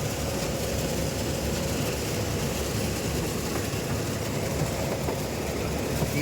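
A dense, continuous engine roar fills the whole clip, loud and steady with a rough rumbling texture and no pauses.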